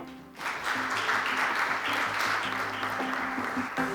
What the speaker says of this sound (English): A round of applause for Maureen.